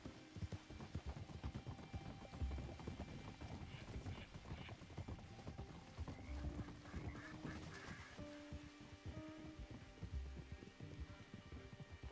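Horse hooves clip-clopping in the video game Red Dead Redemption 2, a steady rhythmic trot continuing throughout under faint game ambience and occasional tonal sounds, moderately quiet and even.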